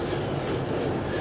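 A NYS&W freight train engine on the Utica branch rolls over a road crossing, giving a brief, steady, close rumble of rail noise with no voices.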